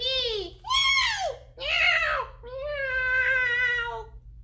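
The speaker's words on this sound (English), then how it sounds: "Yes, it's a cat." A cat gives several drawn-out, wavering meows in quick succession, fairly close and clear over a quiet low hum.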